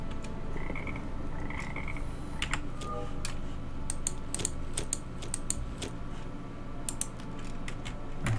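A frog in the Viking survival video game Niffelheim croaks twice early on, short faint croaks mixed with scattered sharp clicks and a low steady background hum, no talk.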